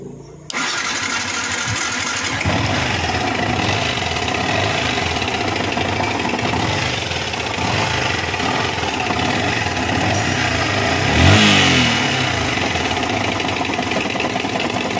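A Yamaha R15 motorcycle engine starts and settles into a steady, loud idle, with a brief rev rising near the end.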